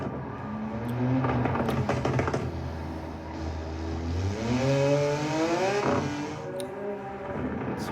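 A Porsche 911-based car runs a lap through twisty corners, its engine note loud and close, rising and falling in pitch with shifts and revs, with some clicking and rattling near the start.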